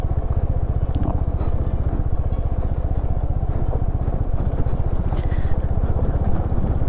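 A motorcycle rolls slowly down a rocky stretch of road in Himachal, its engine idling with a steady, close thump throughout, with faint clatter from the rough ground.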